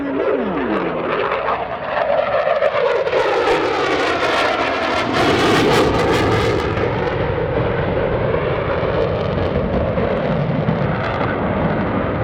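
An F-35 fighter jet roars loud and close during an airshow demonstration, its engine sweeping through a long, sustained rumble with a roaring peak as it passes.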